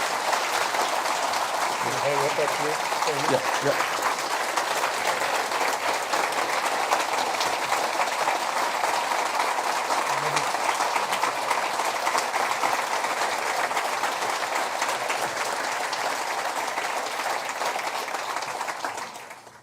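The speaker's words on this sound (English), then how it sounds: "let's give him a round of applause" An audience at a Four Chaplains memorial anniversary celebration gives a long, sustained round of applause, a dense, even roar of clapping lasting many seconds, with a few brief spoken words underneath before it fades at the end.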